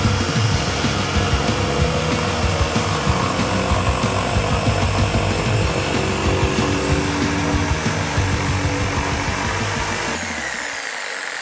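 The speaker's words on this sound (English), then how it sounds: "switch a pendulum action on just to give you an idea how much more speed it actually creates" Bosch PST compact jigsaw cutting with pendulum action on, a loud steady buzzing motor and rapid blade chatter running continuously, then dropping off at the end as the cut stops.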